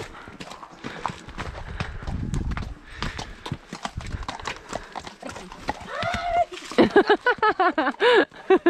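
Horses on a bridleway walk with steady clip-clopping hooves, close and fairly loud, while a horse neighs and whinnies near the end.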